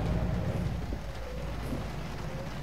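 Rain falling during a drive in American Truck Simulator, a steady wash of patter and hiss with a low rumble underneath, constant and fairly loud with no talk.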